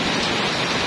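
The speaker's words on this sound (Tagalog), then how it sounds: "Lakas ng ulan, guys." Heavy rain pours down outdoors in a steady, loud, dense hiss of drops hitting surfaces, with no breaks or voices.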